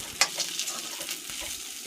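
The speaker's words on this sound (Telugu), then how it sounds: "తొక్క తీసిన పలుకులు వేసి కాసేపు బాగా వేయించుకోవాలి" Skinned roasted peanuts being stirred and fried in a pan, a steady close dry sizzle with scraping stirs and a few sharper clicks as the nuts are moved, no talking.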